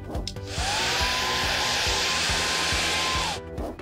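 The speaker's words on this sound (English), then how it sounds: "Think of air flowing out of a hairdryer." A hair dryer switches on and blows a steady, loud whooshing stream of air with a faint whine for a few seconds, then cuts off.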